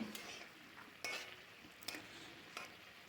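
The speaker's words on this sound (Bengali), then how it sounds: "ঢাকা খুলে আবার নেড়ে দেব" A utensil stirs spinach in a cooking pot, giving three or four sharp scraping clinks against the metal over a faint background hiss.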